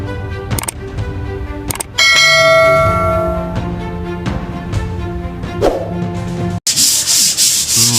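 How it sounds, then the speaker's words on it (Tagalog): An old original Makita screw drill runs in a carpenter's workshop, a loud steady whirring with rising and falling motor tones, brief stops and bursts, then a harsher grinding at the end. "Screw drill na to. Makita na siya mga kapanday."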